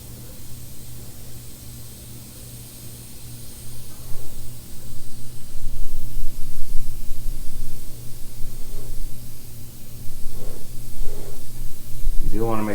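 A spray gun lays coats of paint onto a welding helmet panel, giving a loud, steady hiss in long sustained passes with short pauses between them, over a constant low hum.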